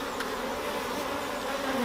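A close, steady buzzing of honey bees hums continuously without pause, fairly quiet but clear.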